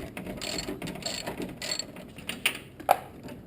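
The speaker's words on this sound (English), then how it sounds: "you need to remove these three bolts" Ratchet clicking while loosening bolts on a Honda Accord V6 J-series passenger-side engine mount, a close run of quick metallic pawl clicks in bursts with a couple of sharper knocks near the end.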